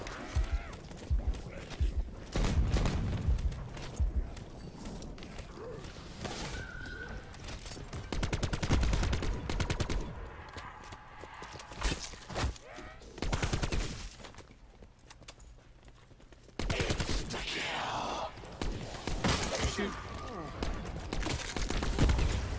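Rapid bursts of gunfire from a Black Ops 4 Zombies match on the Blood of the Dead map, loud volleys and single shots recurring through the stretch, with a voice talking over parts of it.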